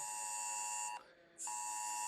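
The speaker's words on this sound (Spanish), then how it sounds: "¿A cuántos les sonó una alarma como esta? Tranquilo, no se asusten, es mi teléfono." An emergency alert blares from a mobile phone during heavy rain and flooding, a loud steady buzzing alarm tone that cuts out briefly in the middle and then resumes at full strength.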